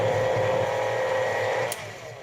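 Electric hand mixer with a dough hook churning pie crust ingredients, a steady close whine that cuts off near the end.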